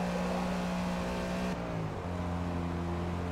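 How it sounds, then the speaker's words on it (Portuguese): Race car engines roar steadily in the video game Forza Motorsport 8, a loud continuous drone with a gear shift and a drop in pitch midway, with no talk. "o barulho, né, do motor, o ronco dos motores é muito parecido com o do Project Cars"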